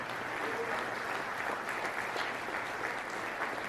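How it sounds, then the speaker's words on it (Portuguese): A church congregation applauds in a dense, even wash of clapping, sustained and fairly faint throughout. "Isso, aplauda o Senhor."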